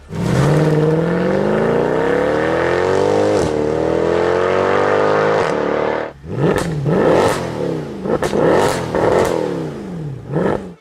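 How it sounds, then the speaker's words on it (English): A modern turbocharged four-cylinder engine in a new Mercedes-AMG C63 revs loudly and close up, first a long rising climb, then a short break followed by several sharp, quick blips that spike and fall. "that's the reality of a modern, turbocharged 4-cylinder"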